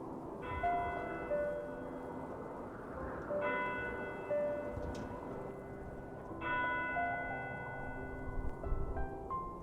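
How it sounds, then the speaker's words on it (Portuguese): Small church bells ring softly and far off across a snowy town at night, three spaced clusters of chiming tones over a low, steady background hush. "você começa a ouvir os sinos da pequena igreja."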